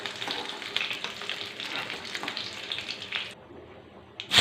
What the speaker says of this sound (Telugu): నూనె, పచ్చిమిరకాయలు ఏగినవి తీసుకున్నాం